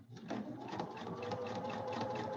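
A sewing machine stitches a throw pillow art piece, running in a steady, even whir with a fine rapid needle rhythm, fairly quiet and close throughout.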